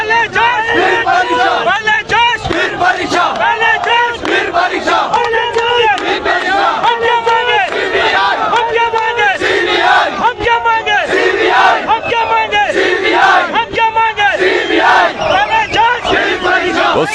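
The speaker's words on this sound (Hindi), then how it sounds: "काफी बड़ी भीड़, ये निसंदेह बहुत बड़ी भीड़ है यहाँ पर अभी छात्रों की" A large crowd of students protesting and demanding a CBI inquiry, with a police vehicle standing by, fills the air with dense, continuous shouting and chanting voices, loud and close, unbroken throughout.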